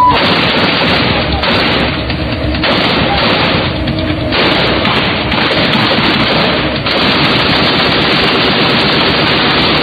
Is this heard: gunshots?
yes